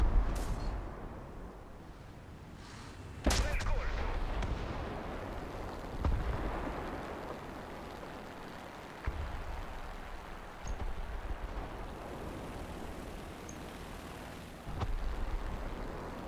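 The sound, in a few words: bomb explosions in the video game War Thunder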